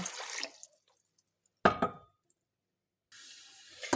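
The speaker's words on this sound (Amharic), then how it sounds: "ከዛ አንድ ኩባያ ውሃ" A cup of water poured into a pot of sugar for syrup, a short splashing gush between quiet gaps, with faint drips and knocks around it.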